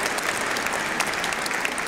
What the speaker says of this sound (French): Moi, je crois qu'on peut applaudir Jésus, là, parce que vraiment, c'est trop fort.